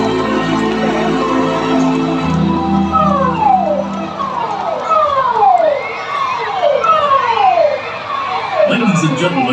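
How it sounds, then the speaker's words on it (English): Civil defence important message signal siren sounding at a National Day Parade, rising and falling wails repeating across the outdoor parade ground over steady crowd noise and a low continuous drone. "the siren you hear is the important message signal."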